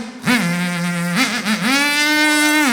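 A performer's voice imitates a radio-controlled car, making a loud, close, buzzing whine that holds steady, dips briefly, then rises again and sustains to the end.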